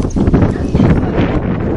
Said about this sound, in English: It is a bit windy at the moment